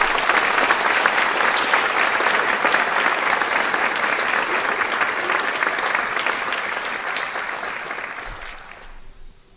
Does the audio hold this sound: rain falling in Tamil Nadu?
no